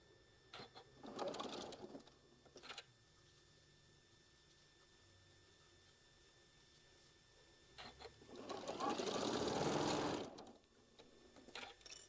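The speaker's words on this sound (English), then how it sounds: "we're just going to sew 1/4 of an inch all the way down" A sewing machine stitches a quarter-inch seam down a quilt block in two separate bursts of rapid, whirring stitching, close and fairly quiet, with near silence between them.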